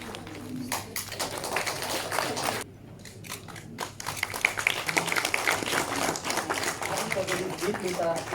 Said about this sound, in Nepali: यसमा हामी ताली बजाएर सामेल हुन पनि सक्छौँ